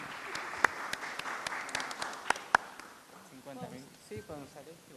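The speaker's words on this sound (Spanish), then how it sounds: "las recibimos con un aplauso" Brief applause greeting speakers at an education talk, scattered claps for a few seconds at moderate volume before fading, then a voice begins speaking.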